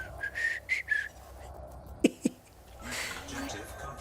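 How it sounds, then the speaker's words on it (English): A group whistles along to a song, giving a few short whistled notes. Two sharp clicks follow, then a low murmur of voices. "Everybody whistle, guys, come on."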